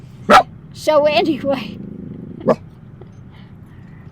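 A dog gives a sharp bark, then a longer whining, yelping vocalisation and another short bark nearby, with someone briefly speaking in between.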